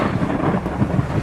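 Thunder from lightning strikes embedded in heavy rain during a Florida storm rumbles as a continuous low roll, loud and close, mixed with the steady wash of the downpour.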